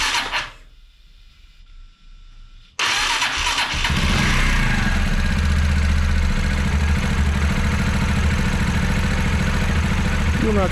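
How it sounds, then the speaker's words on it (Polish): Fuel-injected Junak RACER motorcycle, not run for four to five months, cranks briefly, falls quiet, then catches and settles into a loud, steady, close idle that runs on without interruption. "Przed pierwszym startem ja zawsze tylko na krótko próbuję zakręcić silnik, a dopiero potem inicjuję start."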